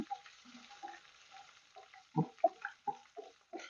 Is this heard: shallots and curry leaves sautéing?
yes